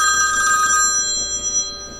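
A mobile phone rings loudly and close by, a bright electronic ringtone that sounds briefly and then stops, leaving a quieter room background.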